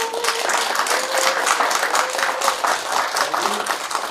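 Applause from an audience at a community talk-show event on single-person households, steady dense clapping across the whole stretch with crowd murmur and a voice under it.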